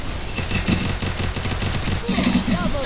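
A Phantom rifle fires in a 2 versus 2 shooter video game, rapid bursts of gunfire rattling steadily throughout, with a voice briefly audible.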